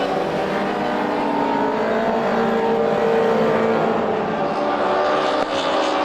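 Classic Lites race cars roar around Star Speedway in a 25-lap main event, a dense, loud, sustained engine drone with several cars running together.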